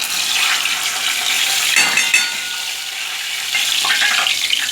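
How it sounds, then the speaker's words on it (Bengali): Cumin seeds and bay leaves crackle and sizzle in hot oil for a Bengali tempering, a bright, steady frying hiss with a brief louder burst midway, close and alone without voices. "জিরে তেজপাতা দিয়ে দিলাম ফোড়নে।"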